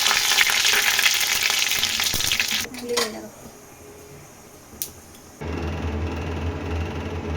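Dried red chillies, curry leaves and mustard seeds frying in hot oil, a bright crackling sizzle that cuts sharply, a few clinks and pops, then a lower steady frying hum returning; a voice talks over parts.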